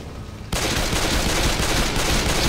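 Gunfire in Left 4 Dead 2 breaks out suddenly after a brief quiet moment, then becomes a loud, continuous burst of rapid shots that fills the rest of the short stretch.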